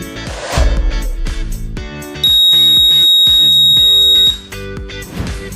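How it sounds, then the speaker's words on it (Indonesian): Automatic medicine dispenser for the elderly sounds a loud, steady electronic alarm tone for about two seconds, starting and stopping abruptly amid background clatter and other mechanical noise. "dari alarm tersebut itu menandakan bahwa sudah waktu untuk minum obat"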